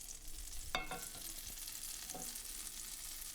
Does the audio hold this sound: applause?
no